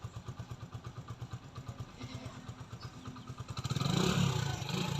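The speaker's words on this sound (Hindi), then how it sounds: "तो फाइनल जो है वो आपको बाइक स्टार्ट करके दिखाते हैं।" A 2023 Pridor motorcycle engine starts and idles nearby with a steady, rapid thumping pulse, then briefly rises in a louder rev toward the end, with no talking.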